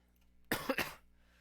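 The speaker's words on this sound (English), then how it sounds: "And if I'm coughing" One person coughs twice in quick succession, a short close burst, with near silence before and after.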